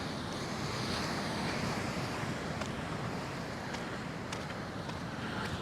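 Surf washing onto Venus Beach in Paphos, a steady broad rush of waves with wind buffeting the microphone, loud and continuous with no break for the whole stretch.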